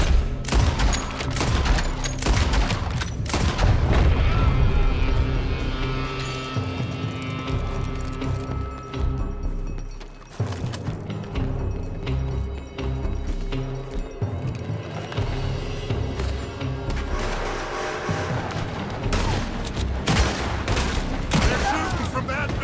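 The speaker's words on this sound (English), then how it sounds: "They're shooting from that building!" Gunfire rings out in the video game Red Dead Redemption 2 on PC, with loud bursts of repeated rifle and pistol shots, some near and some distant, scattered irregularly throughout and mixed with game sounds and voices.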